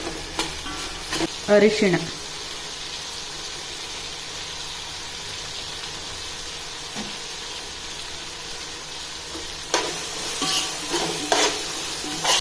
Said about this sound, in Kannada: So 2 tomato. ಇದು ಚೆನ್ನಾಗಿ ಫ್ರೈ ಆಗಲಿ.